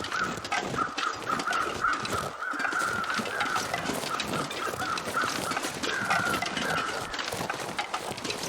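Crows cawing in the survival video game The Long Dark, repeated harsh calls in a steady stream over a dense wind-like background, moderately loud.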